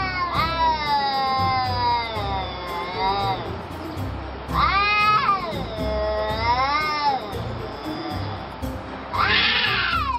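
Two cats fight in the middle of a street, trading loud, wavering yowls in three long drawn-out bouts, the last rising sharp and shrill, with a noisy outdoor background between cries.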